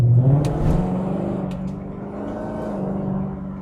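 A car driving off and accelerating, a steady engine hum rising and then holding in the cabin, with a couple of faint clicks near the start.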